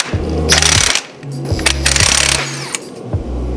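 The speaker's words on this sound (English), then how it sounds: "we also got the impact so that we can get this front sprocket off here" Impact wrench hammering off a front sprocket nut in several loud, close, rattling bursts of about half a second each, broken by short pauses.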